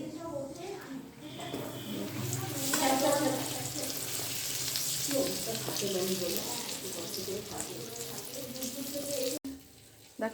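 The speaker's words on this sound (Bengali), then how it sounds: "দেখো কড়াইশুঁটির কচুরিটা ভাজা হচ্ছে।" Green pea kochuri deep-frying in a kadai of hot oil makes a dense, bubbling sizzle close up. Talking runs over much of it, and the sound drops away sharply near the end.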